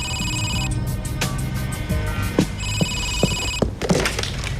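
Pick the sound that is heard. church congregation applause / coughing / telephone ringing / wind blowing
telephone ringing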